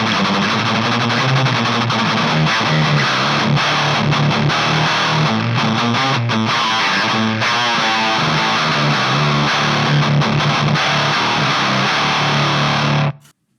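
Distorted electric guitar through a DOD Boneshaker pedal, EQ set for a classic HM2 chainsaw tone, plays loud, buzzing, heavily saturated riffs with sustained chords that ring until an abrupt stop at the end.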